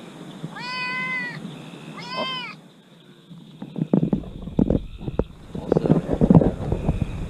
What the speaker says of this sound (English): One more meow.